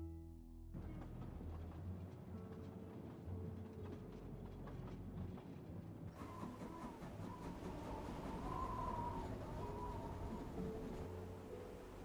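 Moving train in the Murder on the Orient Express video game, a steady rolling rumble with rail clatter that continues throughout and thickens midway, with no talk.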